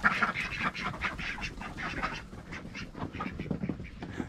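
A flock of ducks quacks loudly and busily, with overlapping calls in quick, irregular bursts and no talking.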